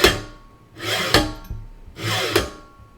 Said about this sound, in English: Move the Y carriage back and forth across the entire length of the smooth rods to align them